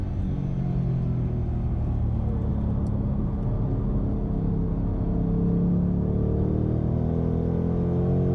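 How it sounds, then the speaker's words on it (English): A 2024 Ford Mustang Dark Horse V8 engine drones steadily on a racetrack with deep, rumbling low tones, the pitch rising gradually as it accelerates, close and continuous without pause. "And you get this V8 engine, bang, bang, gears, oh, it's cool."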